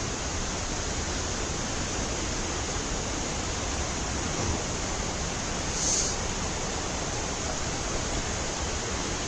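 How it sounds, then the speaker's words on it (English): Buttermilk Falls in Homewood roaring steadily, a dense unbroken rush of falling water close by with no voices. "There's the waterfall."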